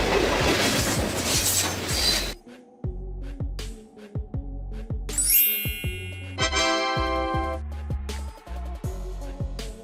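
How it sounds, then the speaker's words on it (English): A freight train rumbles past up close, with loud rhythmic clickety-clack of wheels over rail joints, metallic clinks and a brief high wheel squeal midway. "Freight train."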